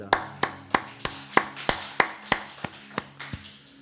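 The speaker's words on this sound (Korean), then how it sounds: "우리 하나님께 영광의 박수 올려드리겠습니다." A church congregation claps together after a Sunday service prayer, about a dozen sharp, evenly spaced claps at a steady beat, crisp and moderately near, with no voices over them.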